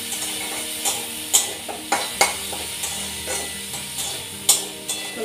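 Ginger-garlic paste frying in a pan for a home-cooked meal, sharp clinks and scrapes of stirring landing every second or so over a faint steady sizzle, close and clear with no talking.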